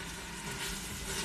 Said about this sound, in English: So we've got a good sizzle going.